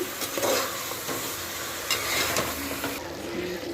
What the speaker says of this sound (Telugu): చికెన్ బాగా ఒక 5 to 6 మినిట్స్ ఫ్రై అవ్వాలి.